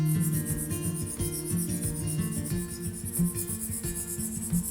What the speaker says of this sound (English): my hand here is rotating as I'm sharpening.